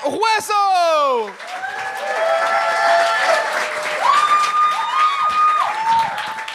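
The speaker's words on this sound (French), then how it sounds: "Un tonnerre d'applaudissements pour Lucas Roisseau!" An audience applauds as comedian Lucas Roisseau takes the stage on a French comedy talent show. A sharp whooping cheer opens it, then steady clapping continues under a bright melodic jingle.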